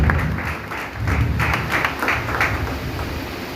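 A church congregation claps loudly for the hosts during a sermon, a dense burst of applause that swells and holds steady throughout.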